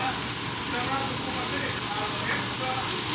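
Onions sautéing on super high heat for Japanese curry, a dense, even sizzle like steady rain, close and moderately quiet.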